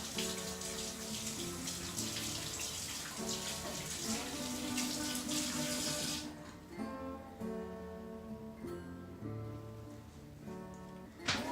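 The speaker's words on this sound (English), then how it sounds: "Make sure you rinse off the corn, get all the nasty pesticides off." Tap water runs steadily while corn is rinsed under it in a kitchen, a close broadband gush with the flow shifting and splashing as the ears are turned. The water cuts off near the end, leaving some dripping and clatter.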